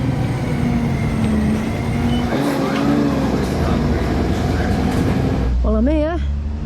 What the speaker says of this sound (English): there it goes, bye bye bus